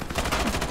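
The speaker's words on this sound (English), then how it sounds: "Stop shooting me, stop shooting me!" Rapid, continuous gunfire from an online first-person shooter, Ironsight, packed into a short, loud, dense burst of repeated shots with no pause.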